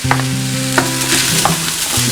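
Ground turkey and chopped onion sizzling and sautéing in a pan, a loud continuous frying hiss with bursts of stirring scrapes, close up and with no talking.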